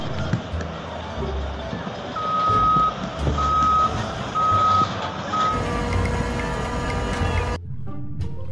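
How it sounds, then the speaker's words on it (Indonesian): A sand truck's reversing beeper sounds four evenly spaced times over a low rumbling engine, with a brief voice and outdoor noise around it. "kalau yang ini ada truk pasir teman-teman"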